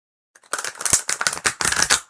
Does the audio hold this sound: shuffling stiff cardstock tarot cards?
yes